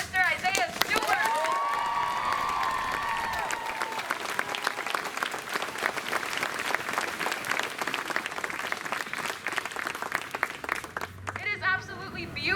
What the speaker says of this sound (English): Can we just have another round of applause for Mr. Isaiah Stewart?